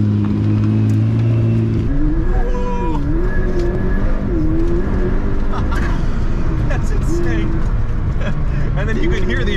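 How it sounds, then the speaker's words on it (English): Maybach 62 twin-turbo engine under acceleration, with whooshing wastegates, turbo whistle and rushing air through the functional roof scoop, a steady loud drone with rising whines, while people talk over it. "You can hear the wastegates and the turbos."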